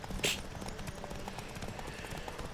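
Horse hooves clip-clop in the video game Witcher 3, a steady rhythmic patter of hoofbeats across the clip with a brief louder burst near the start under faint background game ambience.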